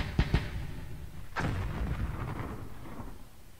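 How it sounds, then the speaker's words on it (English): Artillery in a Vietnam War video game: two quick sharp thumps followed by a deeper rumbling boom that rolls away, fairly faint and distant. "Lots of artillery coming down here now."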